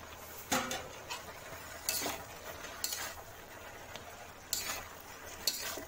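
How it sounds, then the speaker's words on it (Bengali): Taro stolons stirred into fried coconut in a pan, faint scraping strokes every second or so over a quiet sizzle, close but soft, with no voices. "ভালো করে নাড়াচাড়া দিয়ে"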